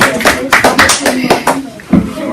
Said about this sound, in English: let me applaud every one